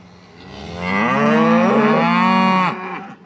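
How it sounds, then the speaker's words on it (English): Mother cows bawl for their newly weaned calves on a cattle ranch, one long, loud, drawn-out moo rising in strength, holding steady, then cutting off, heard alone up close. "As we listen to these cows bawl,"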